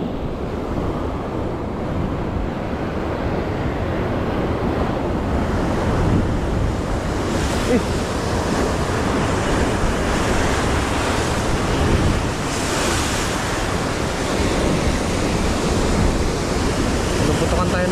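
Ocean surf pounds the shore on Siargao Island during a GT fishing outing, a loud, continuous roar of breaking waves with gusts of wind buffeting the microphone and no talk over it.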